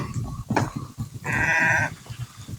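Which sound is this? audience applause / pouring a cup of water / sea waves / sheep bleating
sheep bleating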